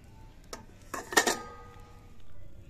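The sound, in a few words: cooking pot being placed on stove for baking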